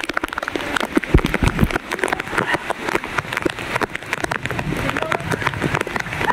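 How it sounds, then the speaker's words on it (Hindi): Heavy rain pours down steadily with dense pattering and splashing across the whole stretch, with occasional sharper drips and some faint background voices. "बारिश तो बहुत अच्छी हो रही है भाई,"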